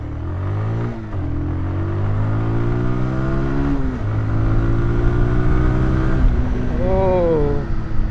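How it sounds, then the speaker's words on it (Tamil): A Bajaj Pulsar 180 motorcycle accelerates hard through its gears, the close engine note climbing steadily in pitch, dropping briefly at each of several shifts, then rising again in a loud, continuous pull. "வண்டியோட 60 and 100 எவ்வளோ ஸ்பீடில் ரீச் ஆகுதுன்றதை ஒரு செக் பண்ணி பார்த்துடலாம்"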